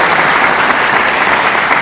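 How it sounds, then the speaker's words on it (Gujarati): An audience at a student development program in Surendranagar bursts into loud, sustained applause, a dense wall of clapping heard up close without voices. "જોરદાર તાળીઓ સાથે અમને આભાર વ્યક્ત કરીએ."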